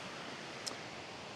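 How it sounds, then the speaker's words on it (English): Stream water at Gardner Falls, a faint, steady broadband rush of flowing water heard in the distance, with one brief click partway through and no voices. "it's a beautiful little section of water just down here. You can probably hear it in the background"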